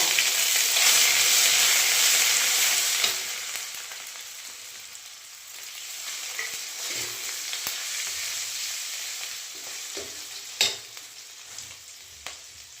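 Bay leaf, five-spice and ginger hit hot oil in a pan for a vegetable curry with coconut milk, soy chunks and taro, giving a loud steady sizzle that eases off, with a few stirring clinks and scrapes.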